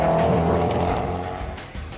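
A Koenigsegg hypercar roars loudly up close, its engine note climbing as it accelerates hard, with a tire squeal and a slight fade toward the end.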